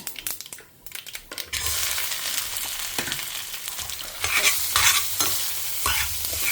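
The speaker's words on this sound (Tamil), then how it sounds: "இதை நல்லா உதிர உதிர ஆற வரைக்கும் நம்ம இதை வதக்கி எடுத்துக்கலாம்" Boiled lentils sautéed and stirred in a pan, with scraping and crinkling stirring strokes over a rising close sizzle that grows louder toward the end.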